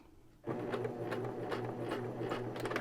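Sewing machine back-stitching across elastic for a hair scrunchie, a steady close mechanical whir that runs continuously after a brief quiet start, with rapid needle ticking throughout.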